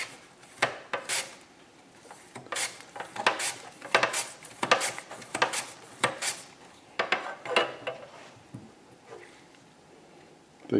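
Kitchen knife slicing potatoes about a quarter inch thick for Anna potatoes, a series of crisp cuts and board taps in uneven clusters, close and fairly quiet.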